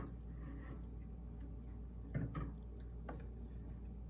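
Jello and sugar are stirred in hot water for a raspberry pie, soft liquid swishes and faint spoon clicks sitting over a steady low kitchen hum.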